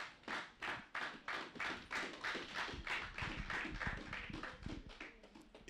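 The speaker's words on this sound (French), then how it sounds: "Nous acclamons très fort pour la parole de Dieu." A church congregation claps loudly in unison, a steady rhythmic run of about sixteen sharp hand claps that blur into looser applause toward the end.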